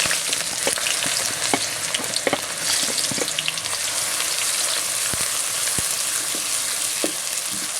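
Onions fry in about a quarter kilo of hot oil in a kadai for chicken paya, a loud continuous sizzle close by, dotted with scattered crackles and pops throughout.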